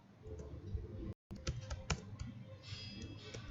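Quick bursts of keystrokes clatter on a computer keyboard while a search query is entered. The soft, uneven clicks are close and quiet, with a brief pause partway through.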